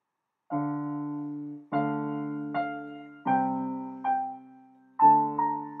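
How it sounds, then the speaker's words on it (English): Slow piano chords ring out one after another, six or so strikes each fading before the next, played alone with no voices. "So normal piano sound would sound like this."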